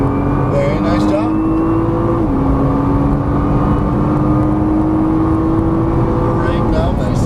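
A Nissan GT-R on a Las Vegas race track drones loudly and steadily under acceleration, its engine pitch climbing then dropping at a gear change before climbing again, with an instructor talking over it.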